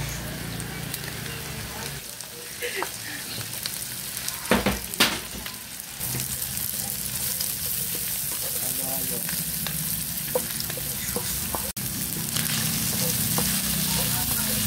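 Onions sautéing in a hot pan for an eggplant dish, a steady dense sizzle and crackle running throughout with occasional stirring scrapes and brief louder clatter, close and continuous.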